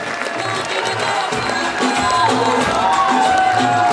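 Young audience at a coaching centre clapping together, a dense, steady wash of applause with crowd noise that holds loud and continuous throughout.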